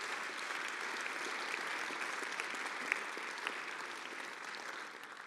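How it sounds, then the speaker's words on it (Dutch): Steady, sustained audience applause at a psychology symposium, a dense even patter of many hands clapping throughout with a couple of sharper claps standing out, fading slightly at the very end. "Je krijgt ook een hartelijk applaus."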